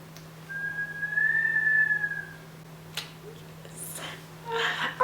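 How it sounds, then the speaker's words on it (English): Wind catching a balcony produces a thin, rising-and-falling whistle lasting a couple of seconds over a low steady hum, followed by soft gusty rustles and clicks nearby. "The way my balcony is set up, it's like catching the wind, and the wind's making weird noises"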